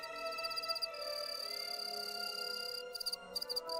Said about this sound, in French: La réponse doit se trouver chez les quelques mâles qui, eux, stridulent encore.